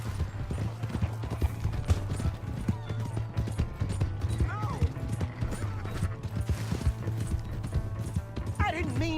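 Horse hooves galloping in the video game Red Dead Redemption 2, a fast continuous clip-clop rhythm close and loud, with voices shouting over it and a brief whinny.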